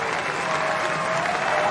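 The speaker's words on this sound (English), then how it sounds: "he wants to hear a bit more from this Stadium 17 crowd" A tennis crowd at the US Open's Stadium 17 applauds after a set-winning ace, steady sustained clapping from many spectators filling the whole moment.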